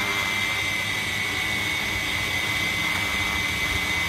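A long-flight quadcopter drone running on a 5S 8P Sanyo battery pack hovers at low throttle, giving a steady, close, unbroken whine and whir of spinning propellers throughout.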